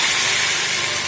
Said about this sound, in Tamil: இப்போ அரைச்சி ஊற்றுனதை இதில் ஊற்றிக்கலாம்.